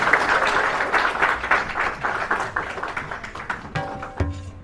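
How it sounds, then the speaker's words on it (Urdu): A crowd at a poetry gathering in Vienna, Austria applauds to welcome a speaker, with steady, dense clapping that gradually thins into scattered claps near the end, where faint talk and other noise enter. "بہت ساری تالیوں سے ان کا جو ہے استقبال کیجیے گا"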